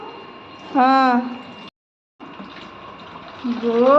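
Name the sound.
water tap running as a child fills water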